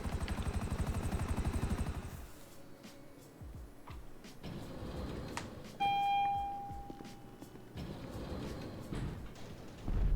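A Buckingham Akula stealth gunship helicopter in GTA thrums with rhythmic rotor chop that fades down as it lands, with a brief electronic beep tone midway and engine noise rising again at the end.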